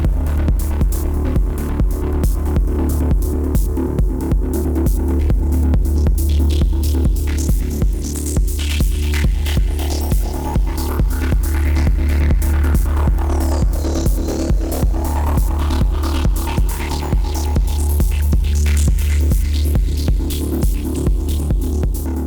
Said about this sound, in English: a hi-hat, and a bass.